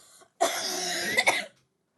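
A voice performs one short, throaty cough that rises sharply and ends abruptly, with near silence before and after.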